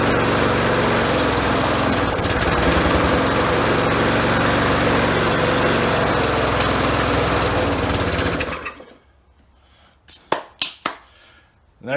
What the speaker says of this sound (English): Motor swap, mower starts.